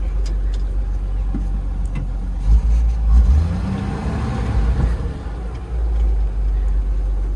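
A 1973 Land Rover Series 3 crawls over a log off-road, its mid-pitched engine droning steadily and rising briefly in a couple of revving surges as the wheels climb, with the low rumble continuing throughout.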